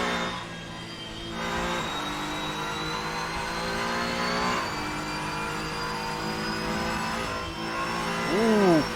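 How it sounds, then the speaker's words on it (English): A Honda NSX GT3 race car at Silverstone GP Circuit, exiting Club corner, drones with a loud, sustained engine note that rises gradually in pitch with no break. "I'm not sure you guys can even hear me over this car, the Honda NSX GT3 car."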